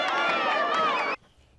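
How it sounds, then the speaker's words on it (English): A parade crowd cheering, played back from a laserdisc recording, forms a dense burst of shouting voices for about a second before cutting off abruptly into near silence. "But the crowd saved its biggest cheers for Aussie heartthrob Mel Gibson."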